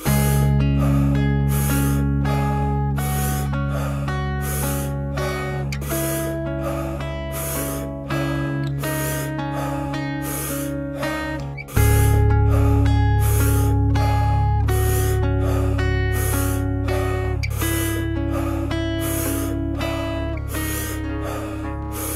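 Rapid, forceful power-breathing breaths from a breathwork session, a steady train of sharp rhythmic inhales and exhales over sustained music, with the backing shifting partway through.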